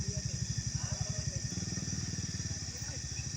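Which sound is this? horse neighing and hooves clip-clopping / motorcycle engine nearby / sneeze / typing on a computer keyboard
motorcycle engine nearby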